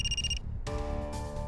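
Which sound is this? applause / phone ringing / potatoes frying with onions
phone ringing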